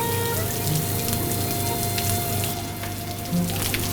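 Steady rain falls beneath a stairwell shelter, a dense even hiss of drops with a few louder splashes, continuous and close throughout.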